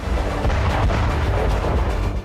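Loud, continuous rumbling booms from a series of explosions after a drone attack on a Russian base in Ukraine, dense and heavy with deep low-end roar, no voices heard.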